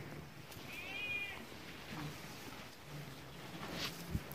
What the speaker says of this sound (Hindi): क्या बिल्ली की आवाज आ रही है कहीं से